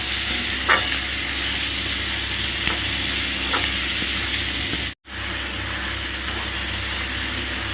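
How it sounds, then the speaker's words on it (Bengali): Cubed tomatoes and crushed garlic frying in a pan over a raised flame, with a steady, dense sizzle that runs continuously and stays loud and close, broken only by one brief dropout, with no talking. "ফ্লেমটাকে বাড়িয়ে দিয়ে ভালো করে ফ্রাই করে নিচ্ছি"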